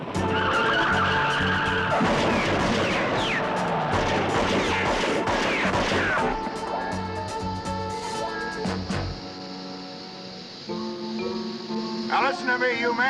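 Tires screech loudly in a long skid, then metal crashes and clatters, followed by rattling debris and lingering engine noise.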